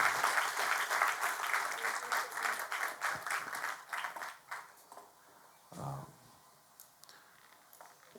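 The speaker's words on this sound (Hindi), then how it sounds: "बाकी लोग तालियों के साथ स्वागत करें।" A Sunday church congregation claps to welcome newcomers, a lively burst of many hands that thins and fades out midway, leaving a quiet room with a faint murmur and small noises.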